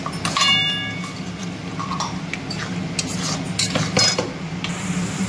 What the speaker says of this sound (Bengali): ভালো করে সব একসঙ্গে মিশিয়ে নেবো